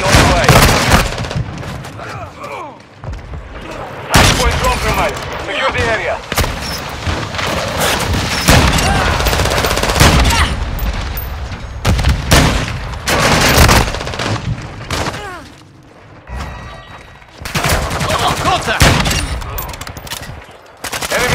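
Call of Duty: Modern Warfare II multiplayer Hardpoint match: dense, loud automatic gunfire bursts and booming shots almost continuously, with brief lulls, overlapping game voice callouts.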